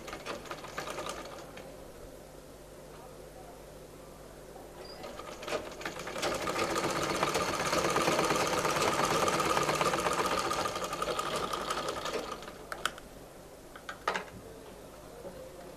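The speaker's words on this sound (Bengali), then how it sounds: "তারপর এখান থেকে সেলাইটা শুরু করব।" A sewing machine runs steadily while stitching a folded hem on a cotton petticoat, a close, loud mechanical whir that builds in the middle and stops with a few short bursts and clicks near the end.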